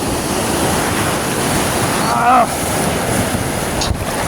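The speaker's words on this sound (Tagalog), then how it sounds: "Maalon dito, maalon." Rough sea after a storm, with constant roaring waves and heavy wind buffeting the microphone on a boat during giant trevally fishing, plus a brief voice partway through.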